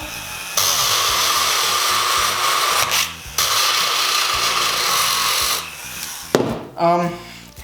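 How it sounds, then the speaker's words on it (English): A handheld rotary tool grinds into a craft stone in two long, loud, high-pitched whining bursts with a brief pause between, then stops as a voice speaks briefly at the end. "Alright, idea number 2, rotary tool."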